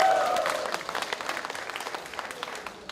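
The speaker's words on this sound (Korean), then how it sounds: "힘찬 박수와 함성 부탁드립니다, 여러분" A crowd at a party political rally claps and cheers, loud at first and then thinning into scattered claps that fade steadily toward the end.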